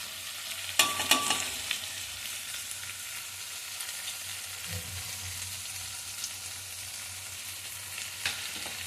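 Ground coriander, cumin, salt, turmeric, garam masala and red chili powder fry in a pan for onion-free dum aloo, giving a soft continuous sizzle with a few sharp scraping stirs near the start and end.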